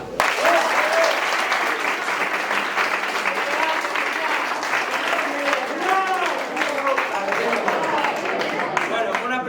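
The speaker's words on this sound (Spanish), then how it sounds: "reciban con un fuerte y gran aplauso a Diego, Iker y Isabela." Audience applause fills a school farewell performance for the graduating class, steady and sustained throughout, with voices and cheers mixed into the clapping.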